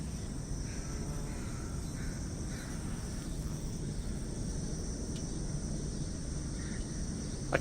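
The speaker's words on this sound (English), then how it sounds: "I can hear crickets." Crickets chirp in a steady, continuous night ambience in the video game Half-Life: Alyx. The trilling is moderately loud and even throughout, with no talking.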